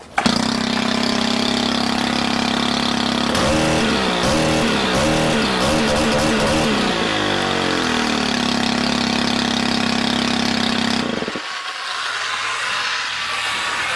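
A Stihl combi unit engine runs loud and high at elevated RPM after a valve adjustment, holding a steady whine with a wavering stretch midway before the revs drop near the end.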